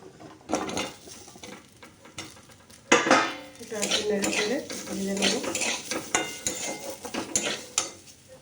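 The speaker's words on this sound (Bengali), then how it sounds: "এরপর আমি দিয়ে দেবো কেটে রাখা আলুটা" Cut potatoes tumble into a pan of fried spices and are stirred with a utensil for mungeshwari potol, giving loud clattering scrapes and knocks against the pan over a soft frying sizzle, close up.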